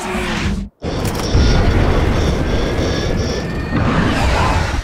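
Bombs going off in a Top Gun Maverick film scene, with a brief dropout followed by a loud, sustained rumbling blast and roar that holds through to the end.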